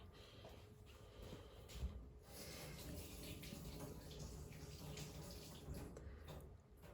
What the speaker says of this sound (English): I'll just quickly wash my hands